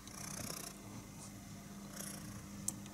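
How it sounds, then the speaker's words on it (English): A sleepy cat purrs softly and steadily, a faint, low continuous rumble close to the microphone in a quiet room, with no talking. "Do you hear her purr?"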